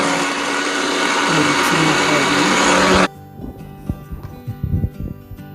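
A mixer grinder blending peanut chutney powder whirs loudly and steadily for about three seconds, then stops abruptly, followed by scattered knocks and clatter as the jar is handled.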